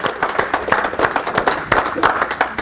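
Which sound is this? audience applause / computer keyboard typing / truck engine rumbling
audience applause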